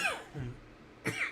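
A person coughs twice, two short harsh bursts about a second apart, close and fairly quiet, during a relaxed group conversation about Linux engineering.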